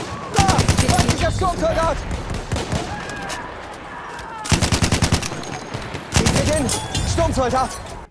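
An LMG 08 machine gun fires full auto in Battlefield 1 in loud, rapid bursts separated by pauses, with quieter game sounds in between.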